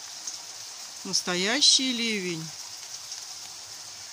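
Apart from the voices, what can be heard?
heavy rain downpour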